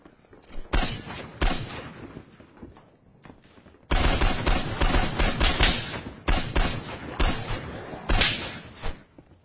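Rapid bursts of gunfire from a zombie shooter video game crack and boom in dense volleys, loud and close, with brief gaps between clusters of shots.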